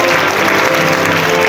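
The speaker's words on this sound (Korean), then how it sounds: "힘찬 박수로 신랑을 맞이해 주시기 바라겠습니다" At a wedding, guests applaud the groom's entrance with a dense, continuous burst of clapping that stays loud and close for the whole brief moment.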